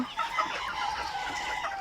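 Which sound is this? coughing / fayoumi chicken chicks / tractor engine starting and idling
fayoumi chicken chicks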